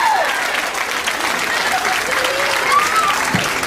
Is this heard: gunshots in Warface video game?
no